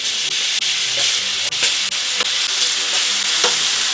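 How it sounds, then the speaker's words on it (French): Lemon slices sizzle in melted butter in a frying pan, a loud continuous crackling hiss broken by scraping stirs and small pops, with no talk. "Le citron dans la poêle."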